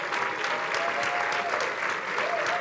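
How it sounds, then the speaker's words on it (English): A crowd claps for a speaker at a Black August event, steady dense applause filling the whole stretch with faint voices mixed underneath. "clap your hands for Dorsey"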